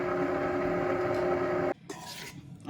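Stand mixer running at slow speed, mixing flour into dough for Swedish nut bread: a steady motor hum with a tonal whine that cuts off abruptly partway through, leaving faint kitchen clatter.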